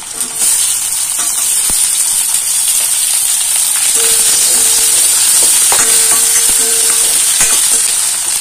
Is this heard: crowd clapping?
no